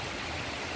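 Floodwater from heavy typhoon rain rushes steadily past in a dense, continuous wash of noise, close and fairly loud, with no other sounds standing out.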